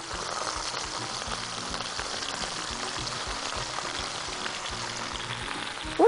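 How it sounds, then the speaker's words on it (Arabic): Garlic and onion sautéing in a pan with oxtail for an Egyptian tagine give a steady, close, even sizzle and crackle that runs unbroken throughout, with no voices. "نكمل بقى تشويح"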